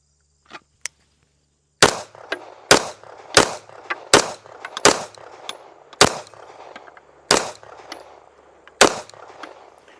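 Rapid pistol shots from a Staccato HD P4.5 fitted with a DPM Systems recoil kit: nine sharp, loud reports in a quick, slightly uneven string at a range, preceded by a couple of faint clicks, with no talking.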